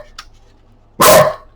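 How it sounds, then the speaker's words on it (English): A single loud, close bark from a dog indoors, preceded by a faint short yip. "I'm sorry for the noise, guys."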